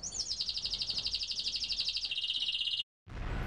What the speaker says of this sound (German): Mit dieser Vogelgesangs-App kann man Vögel zum Singen bringen.